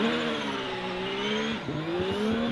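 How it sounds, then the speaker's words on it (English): A racing car over 2 litres climbs a hill climb course in practice, its throaty engine note rising and falling through gear changes, loud and fairly close, with a brief lift before revving again. "Much more throaty noise coming from that engine than there would be from the standard bike engines"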